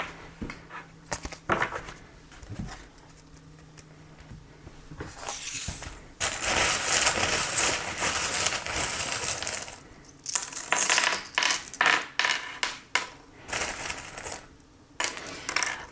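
Small metal charms are tossed onto a table in a few bursts, giving bright jingling clatters close by, separated by quieter moments with scattered light taps.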